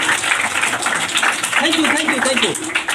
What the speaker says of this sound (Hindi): उनका जोरदार ताली के साथ स्वागत करते हैं